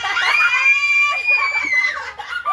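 Child screaming at a 10th birthday party: a loud, sustained, high-pitched scream close by that lasts about two seconds, then a brief second burst.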